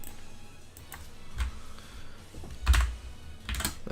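Clicky computer keyboard typing during a Pokemon Sword and Shield battle session, a few sparse irregular keystrokes and taps, fairly faint and close.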